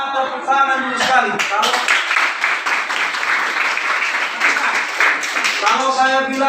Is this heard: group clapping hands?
yes